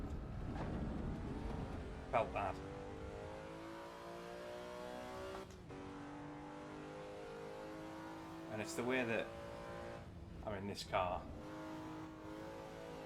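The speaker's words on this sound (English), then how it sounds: "There is only one engine to have in a BMW, and that's the straight six. But the way that this absolutely sings" BMW E46 M3 straight-six engine in Assetto Corsa EVO, lapping the Nürburgring, holding a steady revving drone with sharp rising pulls and brief spikes near 2, 9 and 11 seconds, loud and close under someone talking.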